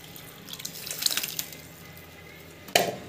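Tamarind water is poured into a cooking pan, with a soft splashing trickle early on and a brief, louder pour near the end, quiet and close with no talking.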